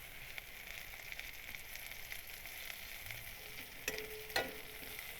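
Curry leaves fry in a pan with onions, giving a faint, steady sizzle, with a couple of sharp clinks and a light stir near the end.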